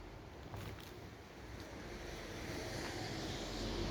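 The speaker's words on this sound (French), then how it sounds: "Ça fait un peu flipper le vent avec les rideaux comme ça." Wind moving through curtains in an abandoned house's bedroom, a soft, steady airy rush that swells gradually and has no distinct gusts, faint and distant-sounding.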